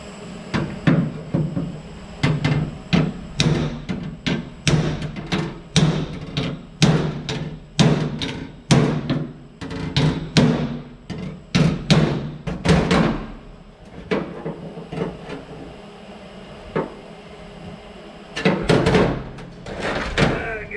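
Repeated sharp metallic hammer blows in irregular bursts during fabrication work on a K5 Blazer's passenger side, loud and close, with brief pauses between runs of strikes.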